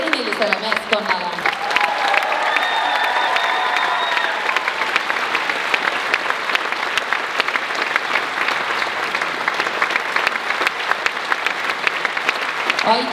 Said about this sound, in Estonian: Suur aitäh, suur aplaus